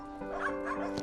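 Street dogs in Turkey give a short, close burst of yipping barks, a quick cluster of sharp calls with no talking.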